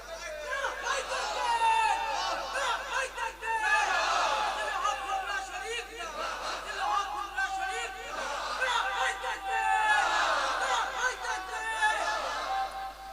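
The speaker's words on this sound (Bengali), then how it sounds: "একবার হাত তুলে দেখাও তো দেখি, তাকবীর মারো" A large crowd at an Islamic sermon shouts Allahu Akbar together, rising in several loud collective waves of massed voices with murmuring and chatter in between.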